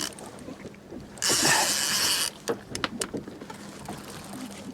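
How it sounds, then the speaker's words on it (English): A fishing reel's ratchet buzzes loudly in one continuous run of about a second as line pulls out while fishing over a burley bomb on an outgoing tide, followed by scattered lighter clicks and knocks. "I'll take that ratchet off because it's a bit noisy."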